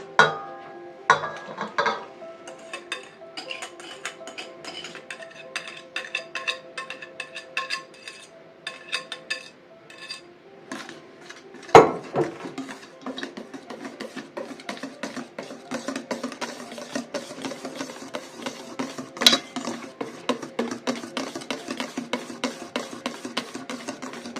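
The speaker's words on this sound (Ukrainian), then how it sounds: "перемішуємо яйця з дріжджами і молоком" Eggs, yeast and milk stirred together in a bowl for a Ukrainian paska, giving a long run of light, irregular clinks and scrapes from a utensil against the bowl, close by with no talk.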